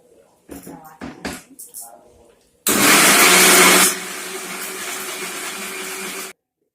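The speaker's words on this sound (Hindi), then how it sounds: "मिक्सी में पीसबो।" A kitchen mixer grinder runs on spices in a home kitchen after a few clatters of the jar, starting with a loud whirring roar that drops to a steadier lower drone before cutting off abruptly.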